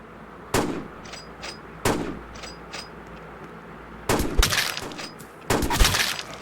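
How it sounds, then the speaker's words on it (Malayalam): Gunshots in the Roblox shooter game Flick: four sharp separate reports, the last two louder and longer with crackling tails, spaced by quiet gaps with faint background noise. "ഇവിടുന്നൊക്കെ വെടി വരുന്നുണ്ട്."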